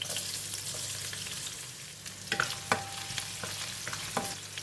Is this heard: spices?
yes